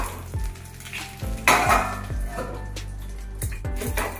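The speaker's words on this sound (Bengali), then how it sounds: "তোমরা যেহেতু এগুলো ফ্রাইং প্যানেই করবে, সেই জন্য এরকম ভাবে একটু নাড়িয়ে দেবে" Ilish fish paturi frying in oil in a frying pan, with a utensil scraping and stirring several times over steady, close sizzling and occasional metallic clinks against the pan.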